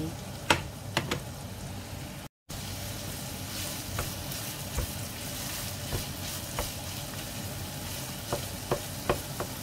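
Carrots sizzle and hiss in a hot pan while a utensil scrapes and taps now and then, stirring steadily, close up.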